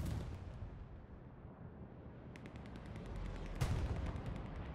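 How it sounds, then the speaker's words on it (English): Bombing run explosions in a World War II tactical shooter game: a dense, continuous roar of blasts and rumbling with one sharper impact near the end, heavy and fairly close, no voices. "we get a semi-effective bombing run on point"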